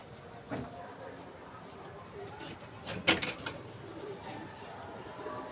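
Pigeons cooing softly in the background, low murmuring coos mixed with shuffling and a brief clatter, with people talking nearby.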